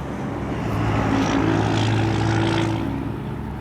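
A 1965 Chevy II Nova's 350 aluminum-headed V8 idles with a steady, close, low rumble that swells slightly in the middle, no voices over it.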